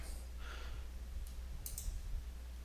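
A couple of soft, quick mouse clicks on a computer in a quiet room with a low steady hum behind them.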